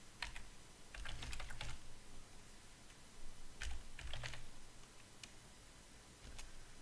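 Typing on a computer keyboard, close and quiet, in brisk bursts of key clicks separated by short pauses.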